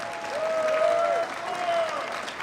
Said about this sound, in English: Let's give one more big round of applause to the Blair High School Band.